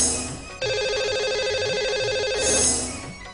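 A telephone ringtone sounds as a call is placed from a Hindi radio show, a single repeating electronic ring pattern lasting a few seconds, clear and close with no talk over it.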